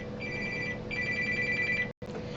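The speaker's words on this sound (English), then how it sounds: "phone rang and I had to take it" A telephone rings with a steady electronic ring, two bursts lasting most of the moment, over a constant background hum, then cuts off abruptly.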